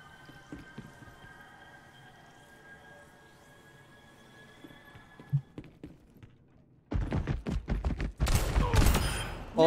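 Overwatch gunfire: after a quiet stretch with a faint tone, rapid bursts of shots erupt, dense and loud, overlapping one another until the end.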